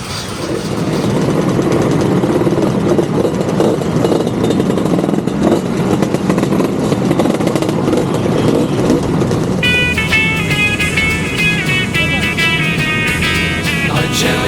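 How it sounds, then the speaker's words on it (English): A line of scooters revving their engines on a Copenhagen morning before the Shrimp Run ride sets off: a loud, dense, continuous engine roar from several machines close by, with high tonal whines rising in over the last few seconds. "Copenhagen morning, scooters revving in a line"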